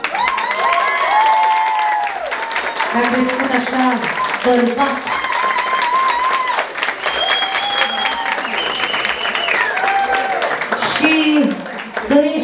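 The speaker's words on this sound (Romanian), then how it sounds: "haideți să-i dăm aplauze!" Guests applaud at a Romanian wedding party in Italy with an orchestra, the crisp clapping mixed with music and someone talking loudly over it throughout.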